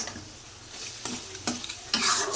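Dried fish stir-fried with garlic and dried chili in a pan, giving a steady close sizzle with scraping stir strokes at irregular intervals, growing louder near the end; no talking.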